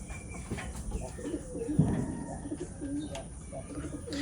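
Pigeons coo softly and repeatedly inside a pigeon loft, with a faint flutter and a few distant chirps.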